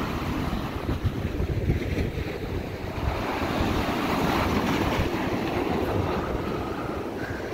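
Sea water surges and splashes against the Blackpool seafront beside the town centre, a loud, continuous roar of surf with gusty wind mixed in.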